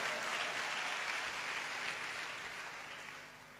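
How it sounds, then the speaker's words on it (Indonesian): Church congregation applauding during an Indonesian sermon, a broad steady wash of clapping that holds evenly, then thins slightly toward the end, with no speech over it. "Tepuk tangannya meriah."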